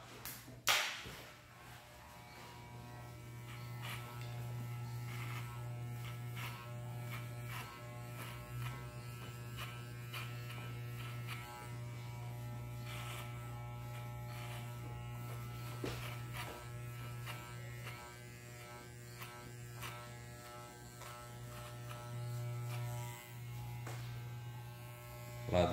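An electric hair clipper fitted with a number 4 guard buzzes steadily and close by while cutting hair for a mohawk, its hum continuous for the whole stretch with small changes as it moves through the hair.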